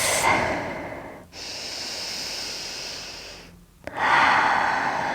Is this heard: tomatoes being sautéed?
no